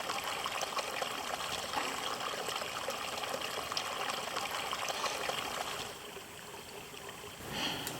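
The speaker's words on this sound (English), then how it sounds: "where there's water running down the trail" Water trickles and runs steadily down a muddy, rocky hiking trail in the Five Ponds wilderness, a continuous close splashing babble that eases slightly near the end.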